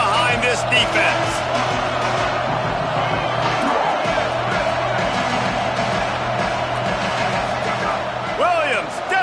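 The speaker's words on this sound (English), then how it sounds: "The crowd gets behind this defense." A stadium crowd roars and cheers without a break during a Washington vs Tennessee football game, loud and dense, with a commentator talking over the noise.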